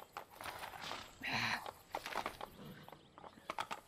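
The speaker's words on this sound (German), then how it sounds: "Pferd! Pferd!" Horse hooves in Assassin's Creed II: a run of quiet, irregular clip-clop hoof strikes in the distance, with a short burst of louder noise in the middle.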